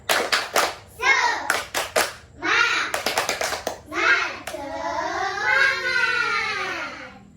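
Children join the tepuk semangat clapping chant in an Indonesian classroom, with crisp rhythmic claps in quick groups between chanted phrases, ending on a long sustained shout.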